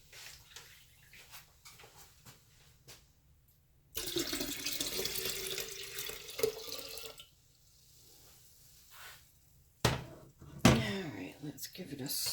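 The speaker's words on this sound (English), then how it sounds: "We're gonna add some water." Tap water running into a kombucha brewing vessel, a steady close rush for a few seconds amid quieter handling noises, with brief talking nearby.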